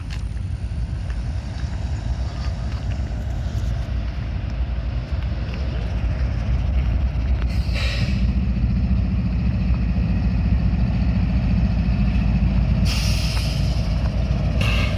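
The Abbeville switcher freight, led by an ES40DC locomotive hauling gondolas and grain cars, rumbles in at the depot with a low, steady engine drone and brief bursts of hissing air, continuous and fairly close, with no voices.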